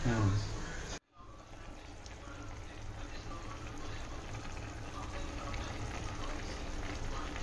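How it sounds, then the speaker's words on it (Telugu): Water is poured into a chicken curry gravy, giving a continuous splashing, gushing pour that is moderately loud, with a brief cut near the start and a voice heard at the opening. "వాటర్ పోస్తున్నాను మన గ్రేవీ కోసం"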